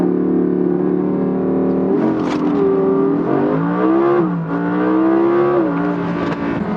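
An Audi R8 V10 Performance in performance mode holds a steady high idle, then launches hard under launch control, its loud engine climbing in pitch through several rising sweeps with quick shift breaks.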